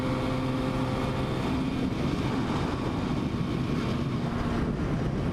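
A 1972 Yamaha RD 350 two-stroke motorcycle engine runs steadily and loudly, with a constant buzzing drone and some wind noise over the microphone, no voices present.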